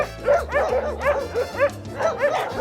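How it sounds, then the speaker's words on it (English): Several Podenco hunting dogs bark and yip in repeated bursts, close and loud, with a few whimpering tones mixed in, clear and without talk. "Everyone else is barking, and these two aren't barking."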